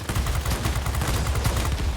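Cannons on the XP-54 fighter fire in World of Warplanes, a dense, continuous stream of rapid booming shots with heavy low rumble, loud and steady for the whole stretch with no talk.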